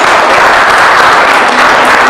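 Dense applause fills the moment for a victorious girls' team on a TV game show, loud and continuous with no pauses, a studio crowd clapping together.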